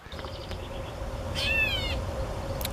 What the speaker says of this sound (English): this is a gray catbird meowing like a cat